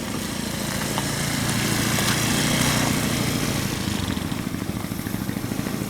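A motorcycle engine runs at a steady low rev while a rider learns to turn it around, with a continuous buzzing drone under heavy broadband outdoor noise and no talk.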